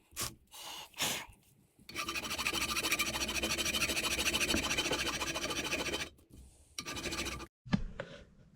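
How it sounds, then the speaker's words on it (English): An abrasive brush scrubs engine parts from a 1980s KZ400J motorcycle engine build: short rasping strokes, then a steady, loud scraping rasp for about four seconds, then a few more brief scrubs. Close, with no talking. "now we've went around and taken the abrasive brush around all of these"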